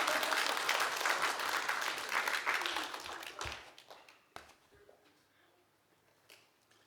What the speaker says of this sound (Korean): 우리 박수로 환영해 주겠습니다.